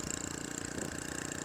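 A motorcycle pulling a cart loaded with freshly cut green fodder drones steadily at close range, its low engine rumble continuous and even throughout, with no talking.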